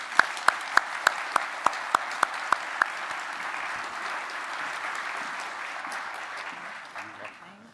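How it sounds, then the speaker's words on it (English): Audience applause for an award honoree at a Pentagon awards ceremony, opening with a few sharp claps before swelling into sustained, even clapping from a large crowd that gradually fades. "Let's give a round of applause for the Honorable Davis"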